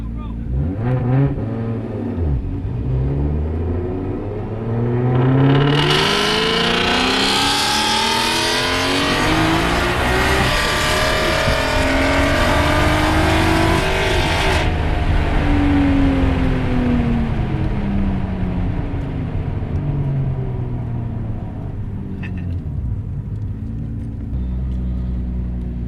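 R32 Skyline GTR launching off the line at Dominion Raceway: a loud, close engine rumble climbs into hard revving acceleration through the gears, then eases back to a steady drone, with occasional voices underneath.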